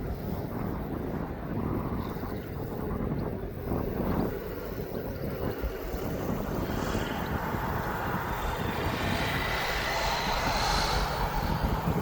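A Spitfire's piston engine rumbles steadily as the plane taxis toward its hangar at East Midlands Airport, heard from a distance with wind buffeting the microphone throughout.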